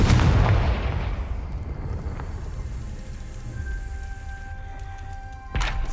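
A Confringo fire spell from Hogwarts Legacy erupts in a loud, booming explosion that rumbles and slowly fades over several seconds, ending with a sharp crack.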